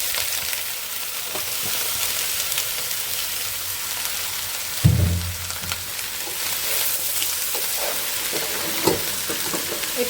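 Vegetables frying in oil with panch phoron and cumin, a steady close sizzle and hiss throughout, broken by a brief clunk of a utensil stirring the pan midway.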